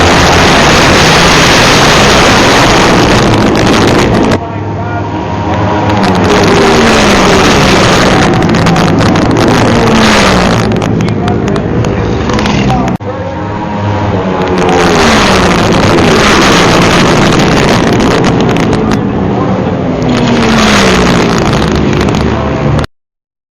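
Racing motorcycles with no brakes speed around a track at London races, a loud sustained roar with repeated engine surges and heavy wind buffeting on the microphone.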